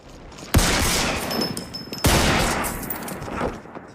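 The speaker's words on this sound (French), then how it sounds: "Lors d'une fusillade, Mike est blessé à l'épaule et ne peut donc pas consulter un médecin classique" Two loud gunshots about a second and a half apart in a shootout scene from Better Call Saul, each followed by a long echoing rumble and scattered clatter.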